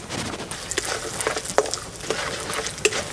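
Peanuts, cinnamon and cloves fry in a little oil in a kadai, giving a steady crackling sizzle with scattered sharp pops and stirring scrapes, close and fairly loud, with no voices.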